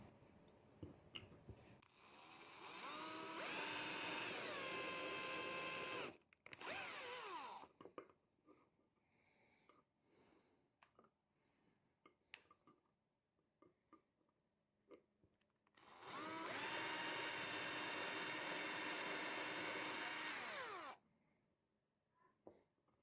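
A power drill with a 1.5 mm metal bit runs in two loud, whirring bursts, the pitch rising as each starts. Quiet clicks and handling noises fill the gap between them.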